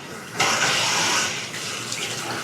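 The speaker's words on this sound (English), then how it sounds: "Yeah, faucets. Nice, right? The water's wet, everybody." Bathroom faucet, a Huron fixture, running water steadily into a sink in a home for sale in Chicago's Galewood area; a broad continuous splashing hiss starts abruptly and keeps flowing close by, with no talking.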